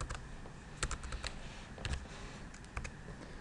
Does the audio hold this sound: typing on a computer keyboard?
yes